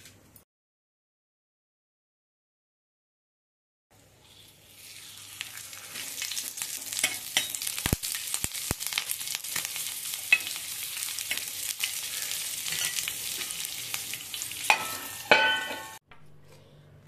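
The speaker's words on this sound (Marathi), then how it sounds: "हे आता आपण मिरच्या तव्यावर टाकायच्या आहेत." Green chillies land on a hot griddle after a few seconds of silence and then sizzle and spit steadily for about twelve seconds, with a few sharp crackles and taps before the sound cuts off.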